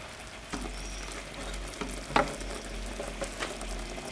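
Sugar syrup for a walnut cake bubbles and sizzles as it cooks toward 119-121 degrees, a steady soft fizzing broken by a few sharp pops and clinks close by.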